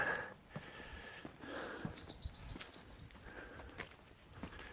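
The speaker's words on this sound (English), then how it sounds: "I can hear some birds." Faint, brief bird chirps twitter in the distance over quiet outdoor ambience, with soft footsteps crunching now and then.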